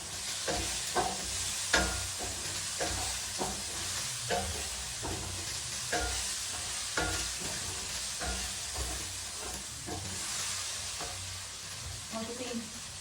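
Ajwain seeds roast in hot ghee with a steady close-up sizzle, broken by regular scraping taps from a spoon being stirred through the pan.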